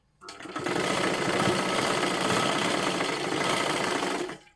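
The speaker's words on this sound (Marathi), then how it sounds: "आता इथे आपल्याला शिलाई करून घ्यायची आहे" A sewing machine stitches a strip of fabric in one continuous, steady run of fast needle clatter. It is loud and close, starts abruptly and stops after about four seconds.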